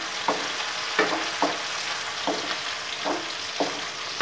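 Onions frying in oil in a home kitchen pan, a steady hiss under repeated stirring scrapes that come roughly every half second, moderately close, with no talking.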